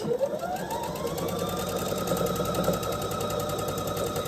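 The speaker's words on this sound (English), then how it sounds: "we are going to put it at the bottom of the head of the rabbit, okay? And we're going to stitch that." A sewing machine runs steadily while stitching fabric pieces of a quilt block, joining a piece below a rabbit's head, with a continuous close, even whir and rapid needle rhythm throughout, no voices.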